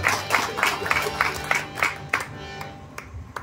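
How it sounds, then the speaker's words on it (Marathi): A crowd at a bhajan performance claps for the singer, the applause rhythmic and fairly loud at first and then thinning to scattered claps. "एका लोकरे बुवांसाठी जोरदार टाळ्या वाजवा."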